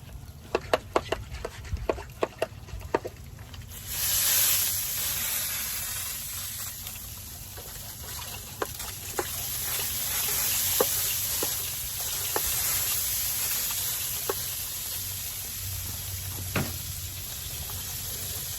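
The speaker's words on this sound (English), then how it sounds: "So we'll go ahead and get that sprayed up again here." Liquid is sprayed onto a smoked brisket on a Brinkmann Trailmaster Limited offset smoker: a steady close hiss runs on after a few sharp clicks and taps, with scattered knocks throughout.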